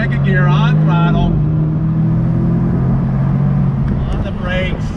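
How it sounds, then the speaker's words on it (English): A 2021 Jaguar F-Type convertible sports car accelerates hard in second gear in manual shift mode, its engine note climbing loud and close, with someone speaking over it. "I'm gonna put in manual shift mode. Here we go, 2nd gear on throttle."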